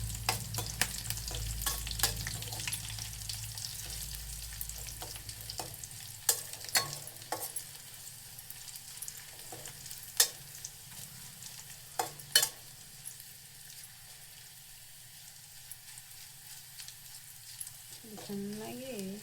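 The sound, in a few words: garlic tempering frying in oil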